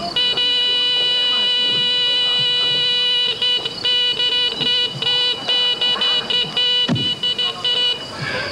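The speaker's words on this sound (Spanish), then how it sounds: "Es una bocina de bicicleta para llamar al pequeño y que se acerque a la comida." A bicycle horn beeping to call a young bear toward food on a film set: a loud, sustained electronic-sounding tone that keeps sounding with short breaks.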